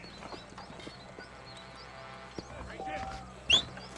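Horse hooves clip-clopping in Red Dead Redemption, a steady rhythmic trot with one sharper, louder hoof strike near the end and a faint voice underneath.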